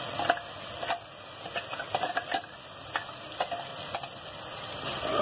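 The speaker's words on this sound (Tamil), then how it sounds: "இதை நல்லா அந்த பச்சை வாடை போக நல்லா வதக்கணும்." Ground crab gravy masala paste sautéing in a pan, with a continuous soft sizzle broken by regular scraping and clicking stirring strokes, close and steady and with no one talking.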